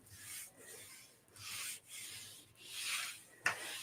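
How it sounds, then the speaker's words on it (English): A hand rubbing a print onto a Gelli plate gives close, dry scraping strokes in a steady rhythm of about six passes, ending in a small sharp tap. "give it a good rub"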